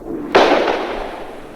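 A single sharp gunshot cracks close by, then fades into a short echoing tail, fired amid looting in the streets of Saigon in 1975.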